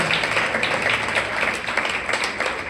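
A church congregation applauds in praise during a Spanish-language service, a continuous wash of many hands clapping at an even level throughout.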